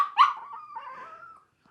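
A single dog lets out a short bark that trails into a drawn-out whimpering whine, close and fairly quiet, alone with no talk.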